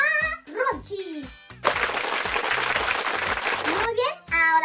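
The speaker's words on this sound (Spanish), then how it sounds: "Un fuerte aplauso para Ronchis!" Loud burst of clapping and cheering from a small group during a children's bath-time toy play session, lasting a couple of seconds and framed by high, animated child-like voices before and after.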